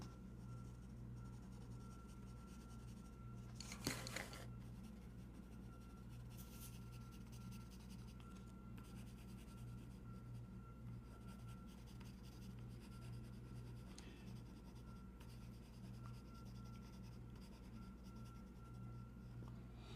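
Markers scratch and rub across paper while a picture is coloured in, a faint, continuous close-up scribbling over a steady low hum, with one brief louder stroke early on.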